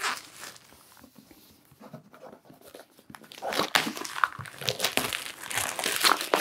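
Plastic wrapping crinkles and crackles as an Obsession board game box and its expansions are opened, starting soft and sparse, then growing denser and louder with rustling handling in the second half.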